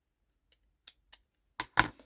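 A few quiet, sharp snips of scissors trimming paper for a collage card sound close up, spaced irregularly, ending with two slightly louder cuts in quick succession.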